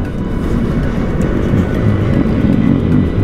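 Motorcycle traffic streaming along a highway, heard as a steady, loud, close rumble of engines and wind for the whole stretch with no voices.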